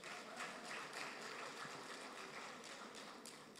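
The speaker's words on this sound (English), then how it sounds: "Give her a next round of applause." An audience at the opening ceremony of a Caribbean public-sector union conference claps for a speaker, a steady, fairly faint wash of applause with no talking.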